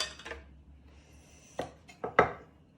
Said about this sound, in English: Should we chop the one purple radish?